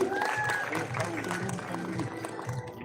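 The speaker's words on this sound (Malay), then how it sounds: "Tapi berikan gemuruh, tepukan gemuruh untuk Kamal Adli." Applause from an audience fills the room, steady clapping mixed with crowd noise and a voice speaking over it.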